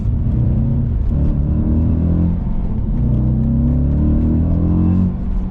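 Audi B7 RS4 engine while driving, a steady deep loud rumble with strong low harmonics and a slight rise in pitch, continuous throughout from inside the car, no talking.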